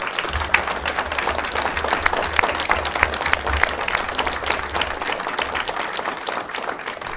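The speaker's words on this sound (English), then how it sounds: "Ladies and gentlemen, a round of applause for these candidates" Audience applause for town council candidates at a candidates night in Marathon: a full, even roar of clapping from a room of people, sustained without letup, with a low rumble beneath.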